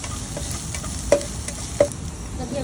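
Ingredients for noodle soup fry in a pan with a steady, close sizzle, while a utensil scrapes and knocks against the pan twice as the mix is stirred.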